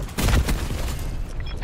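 Hellstorm launcher strike in Call of Duty Black Ops 4: a heavy near boom followed by a rattling burst of blasts that fades quickly, under a radio-style voice.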